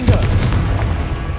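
Incendio fire spell being cast in Hogwarts Legacy, a cluster of sharp, close blasts in quick succession that fade into a rumbling low tail, with a voice briefly audible.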